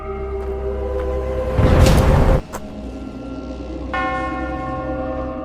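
A bell rings with a sustained metallic tone, broken by a short burst of loud noise, then struck again and left to hum and fade.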